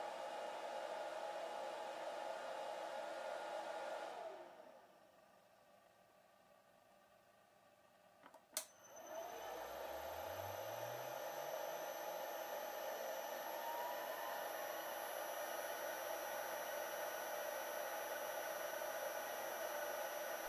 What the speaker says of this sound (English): while switched off, the frequency is reduced over a specified period of time to make the spindle stop slowly